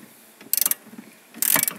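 Ratchet socket wrench tightening a BMW E46 seat bolt, two quick bursts of sharp clicking, several rapid ratchet clicks each, close and clear with no voices.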